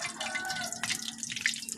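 Hot oil for deep frying tortang talong, an eggplant omelette, spits and crackles in a pan after a few drops of water are added. It is a brief, close burst of sizzling and popping with no voices.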